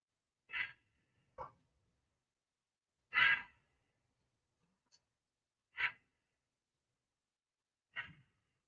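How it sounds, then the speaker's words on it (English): Deep breaths drawn in and let out slowly during a shoulder-roll exercise in a morning routine, five or six soft separate breath sounds spaced a second or two apart, close and quiet, with silence between. "Take a deep breath in. As they go down and to the back and breathe out."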